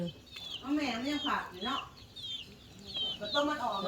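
Chickens cluck in a run of short, close calls with a few brief pauses, moderately loud over a quiet background.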